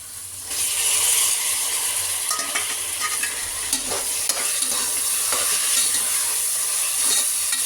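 Onions and tomatoes sauteing in oil for mutton biryani, a loud, bright sizzle that starts suddenly and holds steady, with frequent scraping and clinking stir strokes close up.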